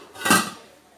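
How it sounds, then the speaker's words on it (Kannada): A metal frying pan set down on a stovetop in a home kitchen, one short clanking knock with a brief ringing tail, close and otherwise quiet. "ಇನ್ನೊಂದು ಸೈಡಲ್ಲಿ ಬಾಣಲೆ ಇಡುವ."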